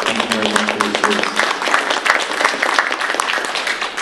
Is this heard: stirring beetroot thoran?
no